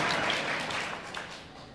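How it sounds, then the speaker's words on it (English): Applause at an academy lunch banquet fills the room as steady, dense clapping from many hands, then fades slightly toward the end. "I want a round of applause for this takbir for them"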